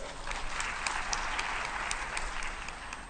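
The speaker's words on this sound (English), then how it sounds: "Give him a round of applause." Audience applause greeting the Director of the Uganda Virus Institute at a WHO Africa health forum, a dense, steady burst of clapping from a sizeable crowd filling the moment without any speech.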